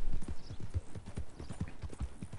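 Horse hooves clip-clop at a steady trotting rhythm in Red Dead Redemption 2, close and moderately loud, with game ambience behind and no talk.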